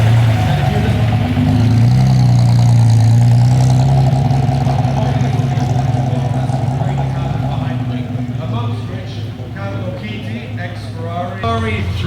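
A Ferrari 330 GTC Speciale at a concours parade, a loud steady engine drone as it creeps forward, easing slightly toward the end, with people talking over it.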